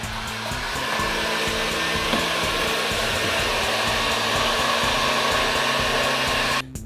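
A heat gun blows steadily on an AM6 engine casing during reassembly, a constant close airy roar with a low motor hum that runs for several seconds and cuts off abruptly at the end, no one speaking.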